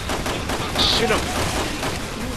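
Rapid gunfire in the video game Resident Evil 6 Mercenaries mode, a dense burst of shots under excited talk from players, loud and continuous over the whole stretch.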